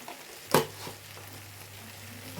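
Masala with a little chili powder being sautéed in a pan, a soft continuous sizzle with one sharp scrape or clatter near the start and a low steady hum beneath.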